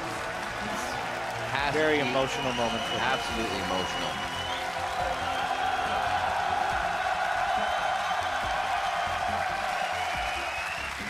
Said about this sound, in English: And there's the applause for Dyrus.